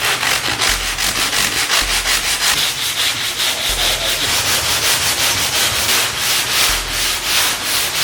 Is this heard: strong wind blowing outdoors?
no